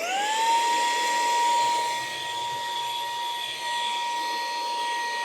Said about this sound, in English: First step is using an electric vacuum to take all the scrubs out.